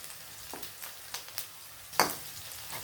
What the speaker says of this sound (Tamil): இந்த மாதிரி வெங்காயம் வதங்கினா போதும்.